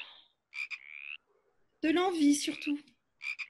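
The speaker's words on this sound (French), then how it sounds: "Nos grenouilles? Oui, qui chantent, qui coassent, qui appellent." Frogs croak in short bursts and trills, close and clear, broken by silence, with a short spoken phrase in the middle.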